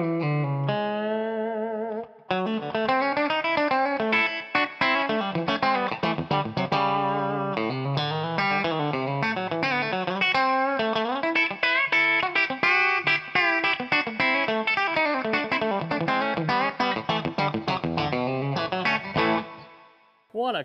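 Electric guitar played through an Origin Effects Cali76 Compact Deluxe compressor pedal, with fast, busy country-style picking, even sustained notes and bends, loud and up close, heard alone throughout.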